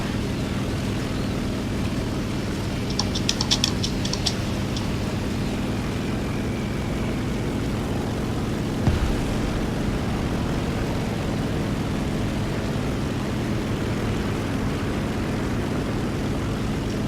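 Steady droning engines of a bomber aircraft in the War Thunder video game, a constant low propeller hum held evenly throughout, with a brief clicking burst early on and a soft thump midway.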